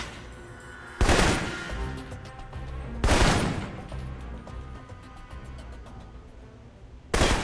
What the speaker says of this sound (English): For long-range encounters, the assault rifle's the key. It's accurate, powerful.